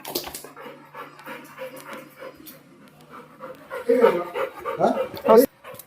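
A dog pants in quick, close, rhythmic breaths, with voices of people talking nearby, getting louder toward the end.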